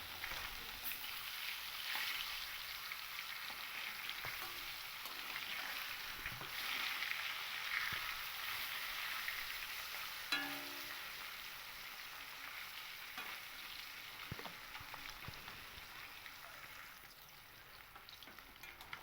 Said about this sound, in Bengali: এবার আমি উল্টে দিয়ে আরেক সাইড মাছগুলোকে ভেজে নেব।